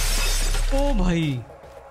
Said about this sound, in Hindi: शीशे से टकराने से शीशा ही टूट जा रहा है।